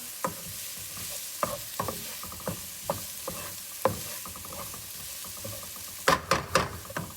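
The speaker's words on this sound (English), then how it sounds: "we are frying our onion on this side of the stove" Onion sizzling in a pan, with intermittent scraping knocks of a utensil stirring, the strokes irregular and a quick cluster of them near the end.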